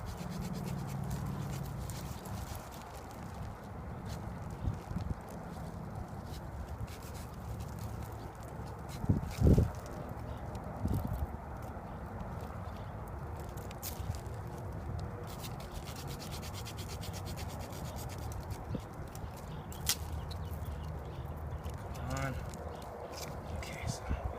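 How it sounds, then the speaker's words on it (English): A hand saw rasps through a green, live acacia branch in steady back-and-forth strokes, close up, over a constant outdoor desert background hiss. "I'm gonna saw this off to make some tongs."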